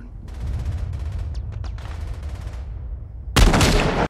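Gunfire from the 1998 war film Saving Private Ryan: a muffled stretch of battle noise and a voice, then one sudden loud sniper shot bursts in near the end and rings out briefly.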